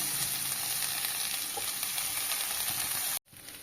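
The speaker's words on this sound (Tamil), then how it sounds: "கருவேப்பிலை இலைகளை போட்டு நம்ம வதக்கி ஒரு நிமிஷம் ஆயிடுச்சுங்க" Curry leaves sauté in a hot pan for chutney, a loud, even hiss of frying oil held steadily close up, cut off briefly near the end before resuming, with no voices.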